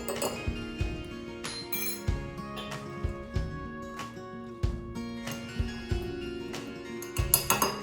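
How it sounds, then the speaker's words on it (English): A utensil clinks and taps against a bowl while baking powder is mixed into a cake batter, producing a series of sharp, close metallic knocks at an irregular rhythm, with no voices. "Now we are going to mix in some baking powder."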